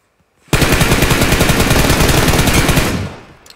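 M416 assault rifle fire in PUBG Mobile: a loud, sustained automatic burst of rapid shots lasting about two and a half seconds, starting abruptly and tailing off.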